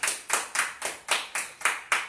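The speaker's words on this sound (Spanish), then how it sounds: "Dale un aplauso al Señor en esta noche." A church congregation claps in unison during an evening service, eight crisp, evenly spaced claps in a steady rhythm, fairly close and loud, with no talking.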